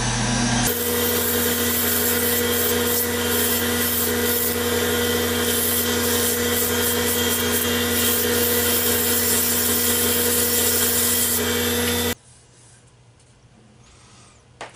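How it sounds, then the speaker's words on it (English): Loud, steady machine drone of a lathe with an abrasive 100-grit gouge shaping the final profile of a hybrid pencil blank with aluminum, running continuously for about twelve seconds before cutting off to near silence. "I'm going to get my final profile done with a 100 grit gouge."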